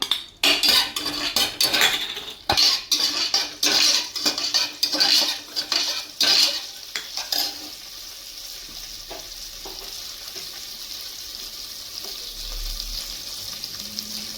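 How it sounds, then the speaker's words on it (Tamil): Green chillies drop into lightly heated oil for goat leg soup, with a busy run of loud metal spoon clinks and scraping against the pan over a crackling sizzle, settling into a steadier, softer hiss of frying. "எண்ணெய் லைட்டாக காஞ்சதும் பச்சை மிளகாய் போட்டுக்கலாம்"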